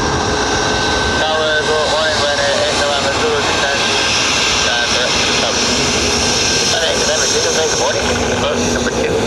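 Dubai Air Wing Boeing 747 freighter at Dublin airport, its jet engines giving a loud, steady broadband roar throughout, with whining tones and voices murmuring faintly underneath.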